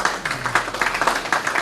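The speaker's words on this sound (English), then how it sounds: "Clap for them, please." An audience at an aviation careers conference claps steadily, a dense rhythmic patter of many hands heard from inside the hall.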